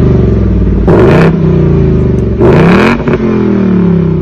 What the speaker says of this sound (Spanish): Suena como un coche muy grande, ¿no?